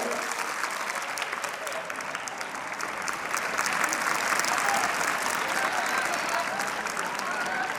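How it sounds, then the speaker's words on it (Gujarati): An audience at a motivational seminar at Model School Talaja claps continuously, a dense, even wash of applause that holds steady throughout. "જોરદાર તાળીઓ"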